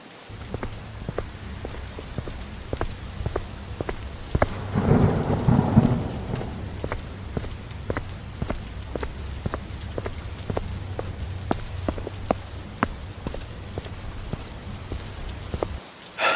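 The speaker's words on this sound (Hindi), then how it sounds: "बारिश बहुत तेज थी" Steady heavy rain pours throughout, with a deep rumble of thunder swelling briefly near the start before fading back into the downpour.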